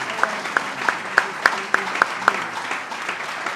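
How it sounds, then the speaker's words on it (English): Scattered applause at a government announcement of a brewery expansion in Rochester, with a handful of distinct, sharp claps standing out over a low murmur and faint talk. "If you could give these folks an incredible round of applause as well."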